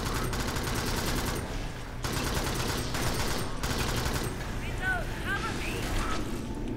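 Gunfire and explosive blasts from the video game Alien Swarm, including a grenade, fill the mix with dense, continuous shooting and bursts, while voices talk and exclaim over the action.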